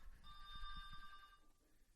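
A phone rings once, a short electronic trill of pulsed tones lasting about a second, quiet and fairly clean against faint low background noise.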